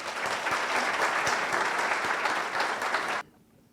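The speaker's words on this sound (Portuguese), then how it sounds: "Por favor, uma salva de palmas." An audience at a lecture hall talk on the secular state gives a burst of dense, steady applause that ends abruptly after about three seconds, leaving near silence.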